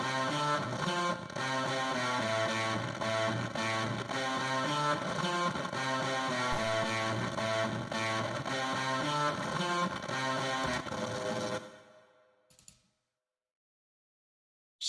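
Distorted, fuzzy synth sequence processed through reverb in Bitwig, a repeating rhythmic pattern of bright, buzzy notes playing loud, then cutting off and fading into a short reverb tail before silence.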